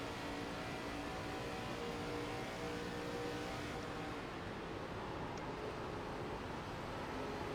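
Race car engines in the iRacing ARCA series drone steadily and loudly throughout, a dense continuous roar with layered engine tones and no pauses.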